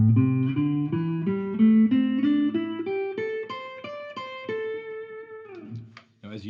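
An electric guitar picks a minor pentatonic scale pattern one clean note at a time, each note distinct and steady in rhythm, rising in pitch, ending on a held note before a short muted strum.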